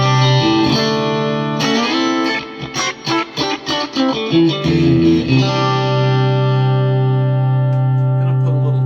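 A Fesley budget electric guitar on its second pickup position rings out with sustained chords, then a run of quick picked notes and strums before settling into a long, loud held chord fading slowly. No talking.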